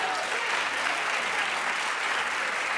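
A studio audience claps in steady, sustained applause at close range, dense and even from start to finish with no voices breaking through.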